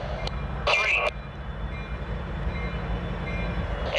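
A big consist of locomotives moves slowly around a wye, a low, steady rumble with a brief crackle of radio voice over it.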